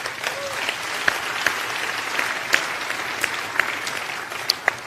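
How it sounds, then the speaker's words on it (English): Church congregation applauding during a sermon, a continuous crowd clapping with a few sharper individual claps and whoops standing out. "You want to clap?"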